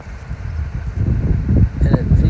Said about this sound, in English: Get out here, it's a little more windy